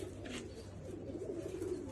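Banded flock pigeons coo quietly in low, wavering burbles, a faint steady murmur with a short higher rustle near the start.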